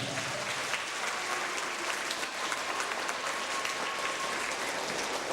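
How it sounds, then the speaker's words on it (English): An audience at a Bronx school assembly at PS 129 claps for Pura, steady dense applause filling the room throughout, loud and sustained, with no voices over it. "let's give Pura a big round of applause"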